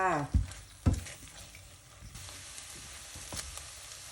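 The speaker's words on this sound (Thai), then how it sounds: "หลังจากที่เราเอาไข่ลงไปผัดแล้วนะคะ" Eggs sizzle in a hot pan with garlic and oil, a couple of clanking stirs at the start, then a soft, steady frying hiss.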